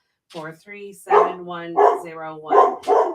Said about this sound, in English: that's my dog barking downstairs